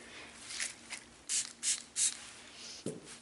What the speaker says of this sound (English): So let's go ahead and give it a spray here.